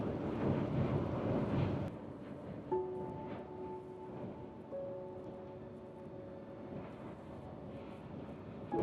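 Steady, strong wind roars and buffets a microphone throughout, with a faint low hum running beneath part of it.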